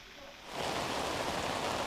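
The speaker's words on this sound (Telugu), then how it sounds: "ఇంకా ఈ వర్షం ఎంతసేపు వరకు కంటిన్యూ అవకాశం కనబడుతోంది?" Rain falling in Hyderabad, a sudden steady hiss of drops on surfaces that rises after a quiet start and stays dense and even, fairly soft and uninterrupted, with no talking.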